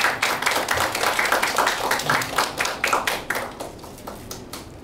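Audience applause at a Korean traditional music (gugak) award ceremony in a small hall, a burst of hand claps sustained across the room and tapering off toward the end.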